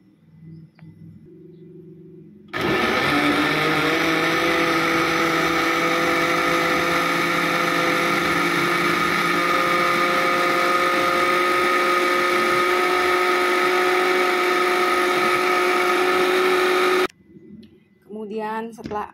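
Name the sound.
blender blending pumpkin mixture with coconut milk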